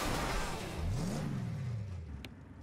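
A Toyota Tacoma pickup truck engine revs up and holds a rising then falling whine, loud and close, for a couple of seconds with no talk.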